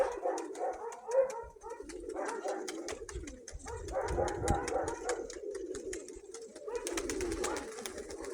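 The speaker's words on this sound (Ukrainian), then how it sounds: "Ось така голубка." Pigeons kept by a Ukrainian pigeon fancier coo softly and steadily at moderate distance, with a scatter of sharp clicks and wing flutters mixed in and a faint dog bark in the background.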